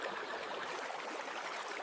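A snowy winter creek flows in a steady, soft wash of running water, constant and unbroken with no voices.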